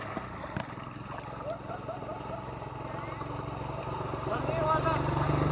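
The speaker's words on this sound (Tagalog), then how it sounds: "Ito yung tricycle mga kaprobinsya" A motorcycle tricycle with a raised exhaust drives through flood water in Palawan, a low, steady engine drone that grows louder toward the end, with splashing and people talking over it.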